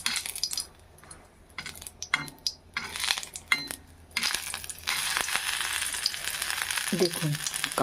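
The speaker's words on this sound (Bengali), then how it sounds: "দেখুন, লঙ্কাগুলোকে কিন্তু একবারে পুড়িয়ে দিতে হবে।" Chillies sizzle and crackle in a hot pan, with intermittent bursts of frying and scraping stirs before a steady, louder sizzle takes over in the second half.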